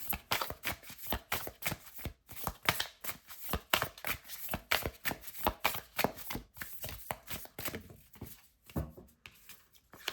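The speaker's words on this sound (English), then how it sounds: "Let me grab a couple more cards here." A deck of tarot cards is shuffled and handled close up, with a quick run of crisp flicks, riffles and slides that keeps going before it eases into softer rustles near the end.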